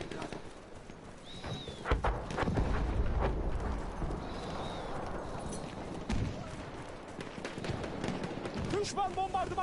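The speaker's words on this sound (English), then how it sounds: "Bir düşman atlısı var şurada." In Battlefield 1, an enemy cavalry horse gallops with hoofbeats amid gunfire and battlefield noise, while a voice talks over the action.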